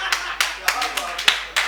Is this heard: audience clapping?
yes